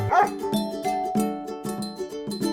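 Several sharp barks from a toy dog in a farm animal toy set, in an irregular rhythm, fairly close and moderately loud, with a faint tonal hum underneath.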